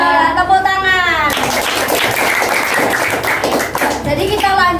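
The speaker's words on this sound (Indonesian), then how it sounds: "Tepuk tangan." A classroom of young students claps hands in a brief burst of several seconds, framed by a teacher's voice speaking before and after the clapping.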